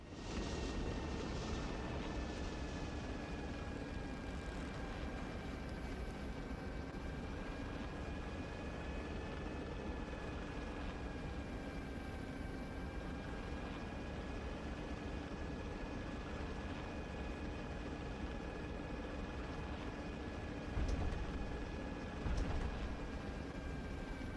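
Attack helicopter from the game Arma 3 in flight, a steady loud rotor and engine drone holding evenly throughout with no talk, plus a brief bump of extra noise near the end.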